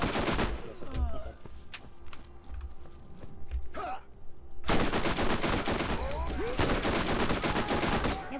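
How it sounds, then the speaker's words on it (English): Rapid submachine-gun fire in Borderlands, with dense bursts of shots at the start and again through the second half. Game sounds fill the quieter middle stretch. "Never thought I'd be using a fucking SMG on brick"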